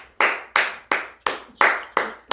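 Hands clapping in support of essential workers, about seven sharp, close claps in an even, brisk rhythm with no talking.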